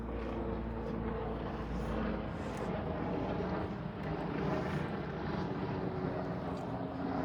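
An airplane passes over a city backyard garden, a broad steady roar filling the whole stretch with no talk.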